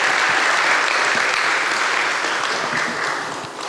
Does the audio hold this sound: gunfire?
no